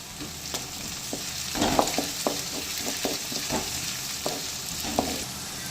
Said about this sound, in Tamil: இது கூட இடிச்சு வச்சிருக்கிற 5 பல்லு பூண்டு, 2 துண்டு இஞ்சி ஆட் பண்ணி நல்லா கிளறி விட்டுக்கலாம்.